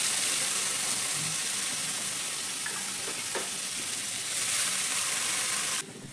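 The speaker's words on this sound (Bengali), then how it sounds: "গ্রেট করা আলুটা জল ছেঁকে ছেঁকে কিন্তু এর মধ্যে দিয়ে দিতে হবে।" Drained grated potato dropped into hot spiced oil, a loud continuous sizzle and crackle that holds steady before cutting off abruptly near the end.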